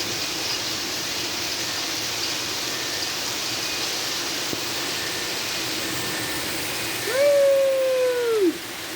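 Heavy storm rain at Quartu Sant'Elena, a loud constant hiss of downpour. Near the end a voice briefly calls out over the rain.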